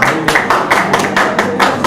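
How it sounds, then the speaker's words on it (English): Audience applause at an awards ceremony during a world leaders summit: dense, steady clapping from a crowd filling the whole stretch, loud and close, with no talk over it. "A big round of applause."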